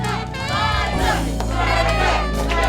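A crowd at a competition roars and shouts loudly and continuously, a dense wall of many overlapping voices yelling together, with a low steady rumble underneath.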